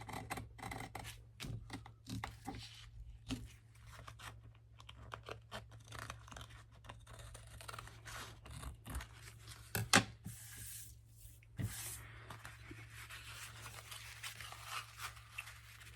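Scissors trim loose threads from scrap fabric for journal pockets, giving a steady run of quick, close snips and small clicks with no talking.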